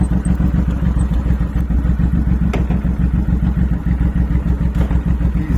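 Motorcycle engine with a failed clutch, running loud and close with a steady, rhythmic throbbing idle throughout.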